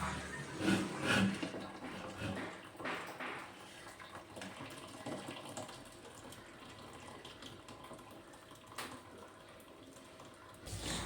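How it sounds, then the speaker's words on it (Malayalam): Water pours off freshly cooked rice as it is drained, a splashing gush that is loudest at the start and then settles into a quieter steady trickle, heard close with no talking. "അപ്പോഴേക്കും ചോറൊക്കെ വെന്തിട്ടുണ്ടായിരുന്നു. അപ്പം ഞാനത് വേഗം വാർത്ത് വെക്കുകയാണ് കേട്ടോ."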